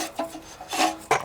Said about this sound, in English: The first thing you want to do is completely pull the rope out